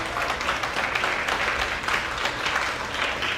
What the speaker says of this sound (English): So give yourself a big hand.